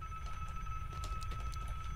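An old telephone rings inside the survival horror game Desolate, giving a sustained electronic trill with steady tonal lines over a low rumbling game ambience, heard alone at moderate volume.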